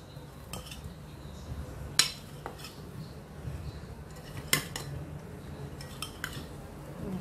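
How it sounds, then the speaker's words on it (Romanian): Potatoes are stirred in a pan with a utensil, giving occasional clinks and scrapes against the metal, a couple of sharper knocks among quieter taps over a low steady background, close by, with no talking. "Îi amestecăm."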